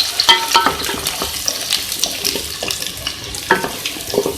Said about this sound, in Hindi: सबसे पहले हम इसके अंदर ऐड करेंगे प्याज। इसको हम फ्राई कर लेंगे।